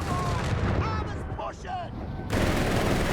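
Machine gun fire and battle noise in a WWII strategy video game, a dense, steady rattle of shots under a constant wash of combat sound, with a brief voice call heard partway through.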